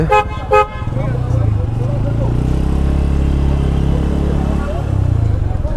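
A Bajaj Pulsar N160 motorcycle is brought in to park at Bashundhara City, with two short horn toots at the start and then a steady, loud low engine rumble, and voices over it.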